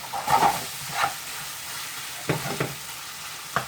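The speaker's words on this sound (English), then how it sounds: "The chicken's pretty much seared now." Chicken sizzles in a hot pan with a steady frying crackle while searing before a curry, punctuated by several scraping stirs and clinks of a utensil.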